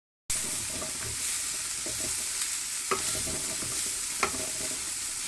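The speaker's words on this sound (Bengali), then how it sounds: "এভাবে আমি শাকটা সুন্দর করে ভেজে নেব" Gram leaf greens (chickpea greens) stir-fried with salt and turmeric in a pan, a steady sizzle running throughout with scattered soft clicks of the spatula against the pan, close by and without talk.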